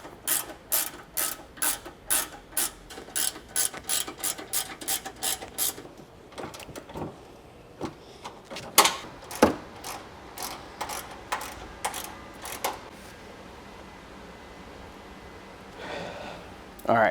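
Ratchet wrench tightening factory bolts on Toyota Tacoma bumper brackets: rapid, close metallic clicking in quick bursts, then slower spaced clicks and pauses, no talk.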